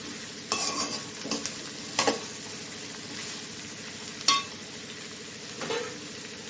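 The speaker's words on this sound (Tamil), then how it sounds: "இது வந்து மூடி வச்சு நம்ம வந்து வதக்கிட்டே இருக்கணும். ஒரு அப்பப்போ கிளறி விட்டுட்டே இருங்க" Bitter gourd (pavakkai) sautéing in a pan, a low continuous sizzle broken by several sharp scraping stirs of a spatula against the metal, close up with no voices.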